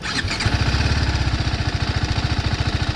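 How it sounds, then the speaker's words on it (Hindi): A 2020 TVS Apache RR 310 BS6 motorcycle engine fires up and settles into a loud, steady, rhythmic idle, thumping evenly close by. "तो आपको मैं एक बार बाइक स्टार्ट करके दिखा देता हूँ।"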